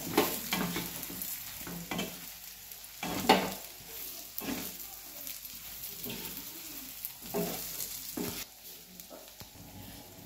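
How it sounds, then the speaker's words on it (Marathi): Brinjals tipped into oil-roasted masala in a pan for a Maharashtrian khar vanga curry, stirred with a spatula: close, steady oily sizzling with repeated scraping strokes and a louder clatter near the start, no talk. "ह्यात टाकूया आपण आता ही वांगी. वांगी अशी मिक्स करूया."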